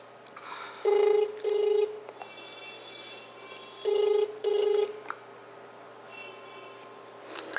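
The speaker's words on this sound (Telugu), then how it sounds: "మనం గోరెలప్ప గారికి ఫోన్ చేద్దాం ఇవి అసలు ఏది విషయం తెలుసుకుందాం" A telephone call rings out: a ringback tone sounds in two paired bursts, each a double electronic ring separated by a quiet pause, clear and steady.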